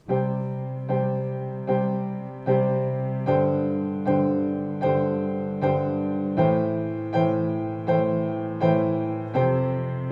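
A piano plays a simple exercise with both hands striking together, about a dozen evenly spaced chords, each ringing and decaying before the next, clear and alone.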